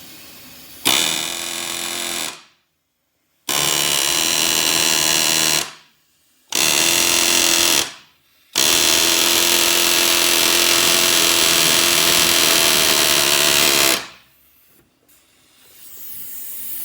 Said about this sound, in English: So now we're going to use the air chisel to get the head off of the